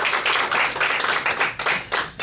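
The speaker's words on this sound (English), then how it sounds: "Ladies and gentlemen, round of applause." A small audience claps at a speaking event, a few seconds of uneven hand clapping with individual claps standing out as it tapers off.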